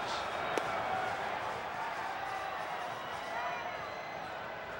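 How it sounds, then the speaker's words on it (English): A stadium crowd at a 2009 World Baseball Classic game in Venezuela boos batter Magglio Ordonez, a sustained, distant roar of massed voices filling the background with no break. "And the boos are still coming from Maglio."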